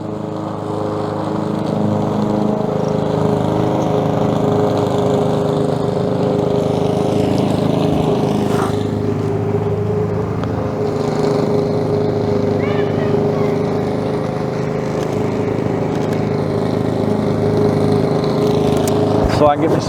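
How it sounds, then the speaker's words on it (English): A lawn mower engine drones steadily and loudly throughout, a constant low hum that never lets up. "Like I say, I apologize about the lawnmower."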